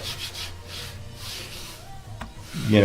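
Wood of a custom electric guitar body being sanded by hand, a soft continuous rubbing and scraping in steady strokes, fairly close and quiet, with a louder bump near the end.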